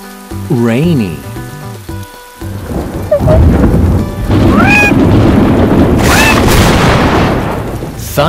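Deep rolling thunder rumbles under steady heavy rain, with a brief musical tone before the storm swells and stays loud.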